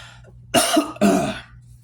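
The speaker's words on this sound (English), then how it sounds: "Still dealing with this stupid cough that I just got randomly a couple days ago" Two harsh, close coughs in quick succession, each a brief burst, followed by quiet.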